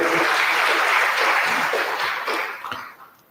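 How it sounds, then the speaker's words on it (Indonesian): Students in a university lecture hall applauding, a loud, dense wash of clapping that holds steady, then thins out and fades toward the end. "Tepuk tangan dulu."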